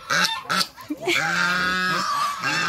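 Loud, nasal honking calls from ducks close by, a few separate calls followed by a longer sustained honk.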